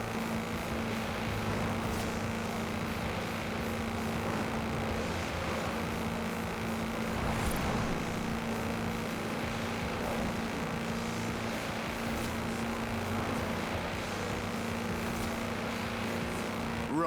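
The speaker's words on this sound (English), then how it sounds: "That's a new tractor speed record and some impressively fast farming." Tractor fitted with 4-inch mud tyres in Forza Horizon 4, its engine racing flat out in a steady, droning roar with a constant hum and no breaks.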